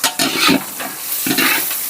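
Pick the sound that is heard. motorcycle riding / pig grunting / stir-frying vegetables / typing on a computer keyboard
stir-frying vegetables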